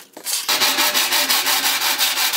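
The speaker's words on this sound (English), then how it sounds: "Let's bust out the file." A hand file scrapes back and forth over a fabricated metal gas tank piece for an E30 project, giving loud, close, rhythmic rasping strokes at an even pace with no talking.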